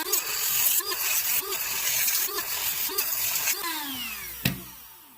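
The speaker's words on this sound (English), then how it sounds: "I'm using a Dremel" A Dremel rotary tool cuts around the hex of a BMW center cap, a steady high buzzing grind with repeated short bursts and a falling whine near the end, close and fairly loud with no talk.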